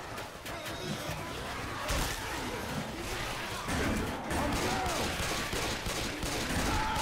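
Pistol gunfire in a video game rattles in rapid bursts of shots beneath continuous game noise, with a voice talking over it.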